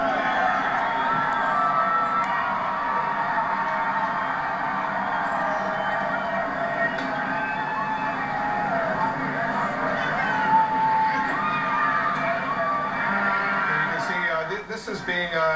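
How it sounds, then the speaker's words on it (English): Outside the White House, a large crowd celebrates the announced capture of Osama bin Laden. A dense, continuous roar of shouting, chanting and screaming goes on throughout, heard from within or near the crowd. "Let's listen in to see if we can hear the chanting, the screaming, the excitement that's going on."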